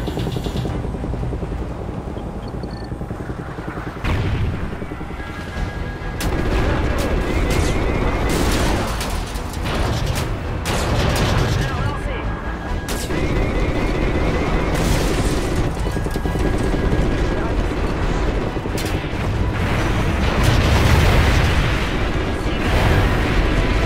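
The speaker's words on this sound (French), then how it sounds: "5-0, canon de 30." Helicopter 30mm cannon fire in Call of Duty Ghosts comes as repeated heavy booms and bursts over a constant rotor and battle rumble. It stays loud throughout with no clear speech.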